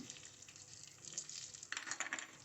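Black pepper and cumin roasting in a pan for a kulambu, giving a steady close sizzle and crackle that grows busier and brighter partway through, with no talking.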